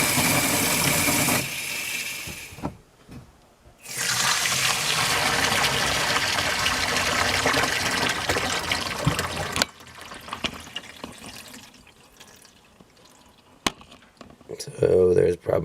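Water drains under pressure out of a home plumbing expansion tank, a loud steady gushing and hissing rush that cuts out briefly, resumes, then gives way to quieter trickles, clunks and handling noises near the end.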